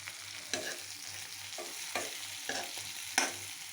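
Noodles with egg stir-fried in a pan, a steady soft sizzle broken by sharp scraping clacks of the utensil at irregular intervals, close and alone without talk.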